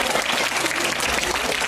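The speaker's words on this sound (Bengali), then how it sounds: "তালি দাও, হাততালি দাও।" An audience at a Netaji Subhas Chandra Bose birth anniversary event bursts into brief, dense, continuous applause, loud and close for under two seconds.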